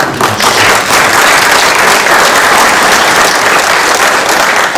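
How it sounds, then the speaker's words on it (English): Loud, close audience applause during a mayor's state of the city address, continuous dense clapping from a large crowd throughout. "I think they deserve a round of applause."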